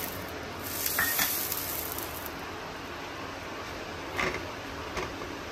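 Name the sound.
shawarma flatbread roasting in oiled hot pan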